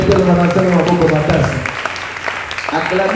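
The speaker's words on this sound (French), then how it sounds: "Acclamez un peu la parole de Dieu" A church congregation claps together in a brief burst of applause, heard under a voice speaking over it.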